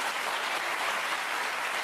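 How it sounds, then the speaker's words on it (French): Sustained audience applause for a performer at a stage show, steady and even throughout with no voices. "je demande de l'applaudir, il est là"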